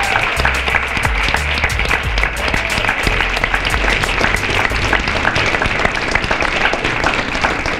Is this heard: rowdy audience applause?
yes